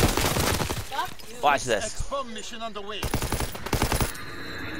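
Rapid bursts of gunfire from Call of Duty: WWII crackle at the start and again near the end, mixed with a man's close, excited talk over the game.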